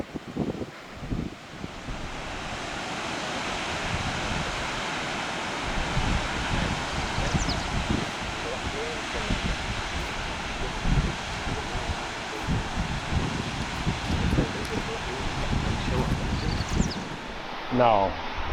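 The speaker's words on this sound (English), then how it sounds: "Now, that's a waterfall, isn't it? Isn't it just stunning? Such a beautiful, huge waterfall" A large waterfall in Salalah roars as a steady, broad wash of rushing water at moderate distance, continuous throughout, with a voice talking faintly over it.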